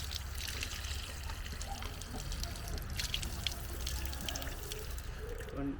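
Water running steadily from a borewell tap at a village water point, a continuous close splashing trickle with irregular drips over a busy outdoor background.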